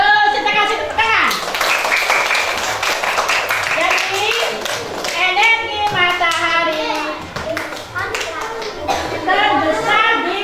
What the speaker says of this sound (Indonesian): Bagus, kita kasih tepuk tangan.